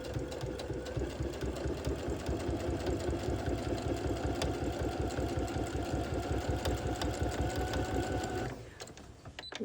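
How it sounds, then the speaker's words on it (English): A sewing machine stitches a quilt seam on a half square triangle, a steady fast rhythmic whir running for several seconds before slowing and stopping near the end. "Now I'm gonna turn it, line it back up, and sew again."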